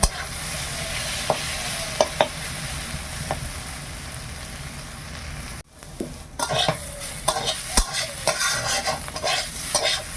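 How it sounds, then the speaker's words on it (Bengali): Spices frying over low heat in a kadai, a continuous sizzle with repeated spatula scrapes and taps against the pan, briefly dropping off midway before stirring resumes more actively; no voices. "হালকা আঁচ দিয়ে ভাজতে হবে, নাহলে কড়াই মশলাগুলো লেগে যাবে তো।"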